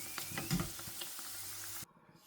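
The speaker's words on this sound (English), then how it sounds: "I'm just going to keep repeating the process until all my gizzard is fried" Gizzards frying in hot oil for Nigerian Gizdodo, a close steady sizzle with small crackles and a stirring clatter, cutting off abruptly near the end.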